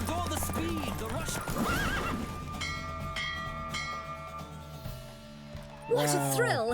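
Video-game hoofbeats from The Witcher 3 clatter at a gallop, then a horse whinnies loudly near the end, with music and voices running underneath.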